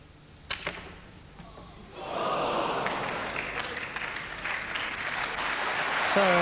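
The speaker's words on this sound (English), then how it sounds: "So even applause from Kirk Stevens there as Jimmy White sets the standard" Spectators at the 1984 Benson & Hedges Masters semi-final clap for Jimmy White's 113 break. After a couple of sharp knocks, the applause swells and holds, with a commentator speaking over it.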